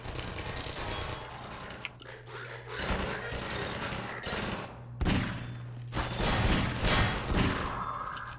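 Automatic turret gunfire in Half-Life 2 rattles in repeated bursts over several seconds, loud and close, with a steady hum beneath and someone talking over parts of it.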